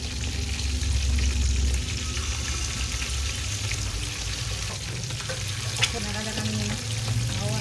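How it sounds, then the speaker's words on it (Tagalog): Shrimp cakes fry in cooking oil with a continuous, even sizzle and crackle up close, plus a few small clinks. "Ready for frying."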